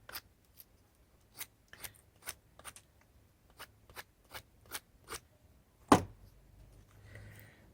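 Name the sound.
pocket knife trimming wood for log snowman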